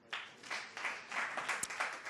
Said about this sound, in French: Il faut applaudir pour lui.